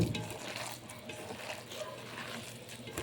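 A mixture of flour, water and other ingredients is stirred in a bowl, a close, soft wet scraping and squelching with faint clinks, no talking.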